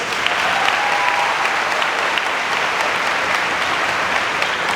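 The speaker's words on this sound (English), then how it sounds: "Please give a round of applause for Ms." Steady, full applause from a large audience at a 2024 KHHS high school graduation ceremony, dense and even, with no talking over it.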